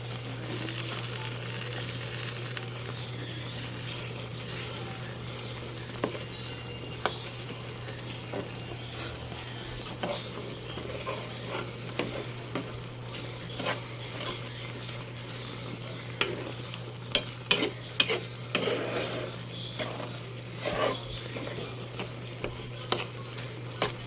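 Fermented rice and fish (burong isda) sautéed in a pan while being stirred from the bottom as it starts to stick, with a steady sizzle, scraping spoon strokes and occasional sharper clicks near the end, close and without talk.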